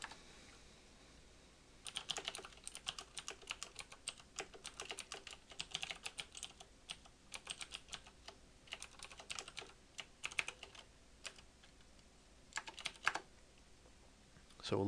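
Computer keyboard typing while writing Android tic tac toe code, quiet and close: bursts of rapid clicky keystrokes with short pauses between runs, fairly faint overall.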